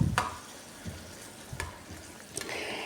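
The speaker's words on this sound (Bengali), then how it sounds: "এই যে এখানে তিনটা শুকনো মরিচ ভাজছি" Three dried Kerala red chillies fry in a little hot oil in a home kitchen pan, with a soft, steady sizzle broken by a few brisk stirring scrapes.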